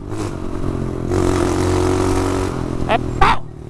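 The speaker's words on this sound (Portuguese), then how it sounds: "Olha o barulho dessas motos, mano." CRF motorcycles ride through city streets, their engines droning and swelling as they pass close by. Short sharp bursts and rattles come near the end.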